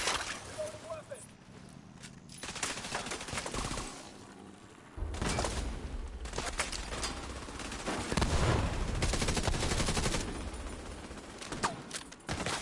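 Gunfire in The Division 2 on PS5 crackles in rapid bursts against a defensive turret, with a sharp lull before heavier volleys. Several people talk over the shooting.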